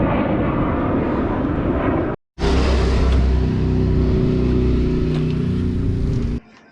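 A jet aircraft passes overhead with a loud, steady broadband roar and a low rumbling drone, briefly cut off once before resuming and then falling away.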